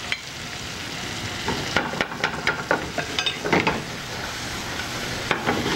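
Vegetables heating in butter in a pan for a winter comfort meal give a steady close sizzle, with a run of light stirring scrapes and taps through the middle and end.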